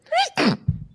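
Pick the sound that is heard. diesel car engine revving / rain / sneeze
sneeze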